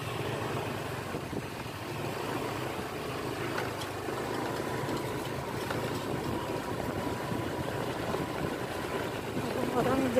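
A motorbike engine drones steadily while riding along a lakeside path at Setu Babakan, Betawi village, a moderate continuous hum with road and wind noise, swelling slightly near the end.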